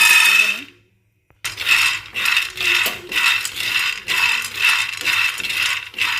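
Small groundnuts being dry-roasted in a pan for North Karnataka shenga chutney, giving bursts of rattling, clattering nuts stirred against the metal in a regular rhythm after a brief silence.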